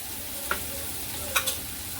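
Bitter gourd sautéing in a pan makes a soft, steady sizzle with a few light spatula taps, close and fairly quiet, no voices.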